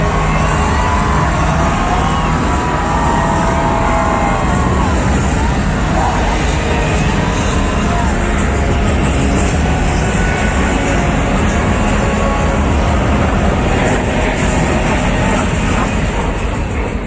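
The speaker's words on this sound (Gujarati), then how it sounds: "પ્લેન આવી રહ્યું છે" A plane at the Rajkot air show rehearsal roars past at low altitude, a loud, continuous, rushing engine noise that fills the air over a murmuring crowd.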